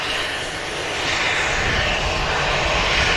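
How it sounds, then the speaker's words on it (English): An Etihad jet airliner begins its takeoff roll at Manchester Airport, its engine roar loud and broad and swelling slightly as thrust builds, with no voices over it. "the Etihad's just about to start its takeoff roll"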